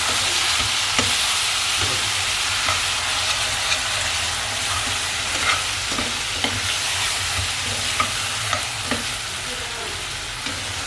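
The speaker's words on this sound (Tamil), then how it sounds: "நம்ம அடுப்பில் போட்டு கிளறி" Mutton pepper chukka, Virudunagar style, frying and being stirred on a stove: a steady close sizzle with repeated sharp scrapes and clicks of a spoon against the pan, no talking.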